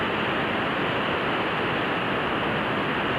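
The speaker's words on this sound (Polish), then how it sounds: "To jest piękne morze" Baltic Sea surf breaking on the shore sounds as a dense, continuous wash of broadband noise, loud and steady with no distinct individual waves, and no voices.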